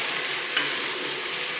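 Food fries in a pan with a steady, dense sizzle, close and continuous without pause, and no voices over it.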